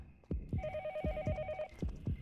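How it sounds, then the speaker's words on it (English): An old-style telephone rings in the video game Yomawari, a steady electronic ring tone pulsing over rhythmic low thumping footsteps or beats, fairly close and clear. "Is that a phone ringing?"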